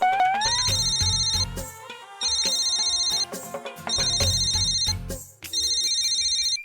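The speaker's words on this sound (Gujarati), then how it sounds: "આ ફોનમાં દિવાકરનો ફોન આવ્યો છે." A mobile phone rings with a bright, melodic ringtone, the same tune repeating four times in quick succession, loud and close.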